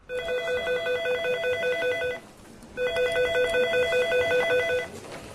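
A telephone rings in two long electronic bursts with a short gap between them, loud and close with no talk, the incoming call for a bomb warning made from a South Armagh phone box to a Belfast television newsroom.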